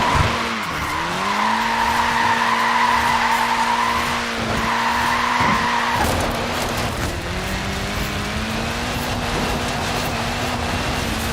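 The tiny tyres of a Mini squeal in Forza Horizon 4, a loud sustained screech whose pitch wavers, with engine drone under it. The screech breaks off and then settles into a steadier whine.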